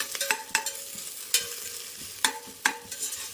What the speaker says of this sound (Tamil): இஞ்சி பூண்டு பேஸ்ட்டை போட்டுக்கிறோம் போட்டாச்சு அதை நம்ம என்ன பண்ண போகிறோம் அப்படியே நல்லா அழகாக கிண்டு ஒரு கிண்டு கிண்டிக்கிறோம்